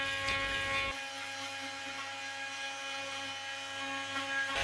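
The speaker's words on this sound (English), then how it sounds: "The AV70 RT 3 Max grout remover will remove grout and adhesive even in the most inaccessible corners." A Bosch GOP 300 SCE multi-cutter fitted with a grout remover blade works through grout, giving a constant thin high-pitched oscillating whine with a harsher grinding edge at the start and finish.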